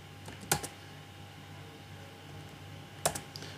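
Keystrokes on a computer keyboard while editing a file in VIM on Red Hat Linux: two short bursts of a few clicks each, widely spaced over a steady low background hum, moderately close.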